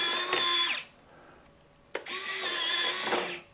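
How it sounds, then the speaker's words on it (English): Mechanical retracting landing gear on a model aircraft whirs through two close powered runs, separated by a short quiet gap and a sharp click, like a small motor driving the legs up and down. "Now you get to hear and see these retracts work."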